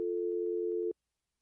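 A steady telephone dial tone hums alone for just under a second, then cuts off abruptly into silence.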